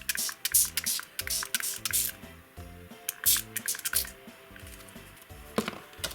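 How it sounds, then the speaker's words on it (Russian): Repeated short hissing bursts of water spraying from a bottle onto a paper leaf, close and crisp, separated by brief pauses over a faint musical background. "брызгаю снова воды"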